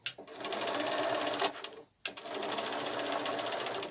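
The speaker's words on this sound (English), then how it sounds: "So when we get to the corner, we make sure we stop with our needle down, turn it around and just sew again," Sewing machine stitching fabric petals at a craft show, running in steady fast bursts, pausing briefly as the needle stops down at a corner and the fabric is turned, then resuming loud and close.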